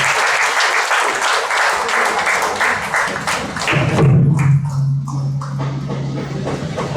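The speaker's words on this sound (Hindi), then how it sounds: "ताली बजा के उनका स्वागत करें।" An audience at an evening program claps to welcome guests, a dense, loud burst of many hands that thins out toward the end as a low hum rises underneath.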